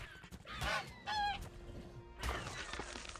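Raptor grunting from ARK Survival Evolved on Lost Island: two loud, strained honking calls in quick succession, then a lower grunt and scattered rustle, with no talk over them.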